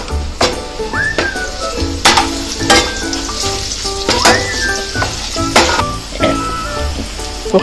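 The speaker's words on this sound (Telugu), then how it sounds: "కొంచెం పసుపు వేసుకోవాలి అప్పుడు కొంచెం కలుపుకోవాలి" Chicken curry sizzling loudly in a pan as turmeric is stirred in, with repeated sharp scrapes and clinks of the spoon against the pot over constant frying hiss.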